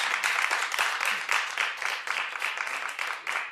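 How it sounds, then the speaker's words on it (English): A talk-show studio audience claps together in a steady, dense wash of applause that stays fairly even for several seconds with no voices on top. "No, clap like you mean it."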